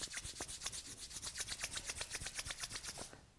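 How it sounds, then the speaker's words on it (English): Hands rub together briskly in a steady back-and-forth rhythm of close, dry swishing strokes, about six per second, with no talking. "Then we'll bring the hands together, rubbing them briskly to build heat."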